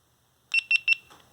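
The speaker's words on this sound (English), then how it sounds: "It'll beep several times, and then the screen will start flashing." Three quick, high-pitched electronic beeps in a row from a GoPro Hero 7 action camera with a screen flicker and recording fault, evenly spaced and close, followed by a faint softer tone in an otherwise quiet setting.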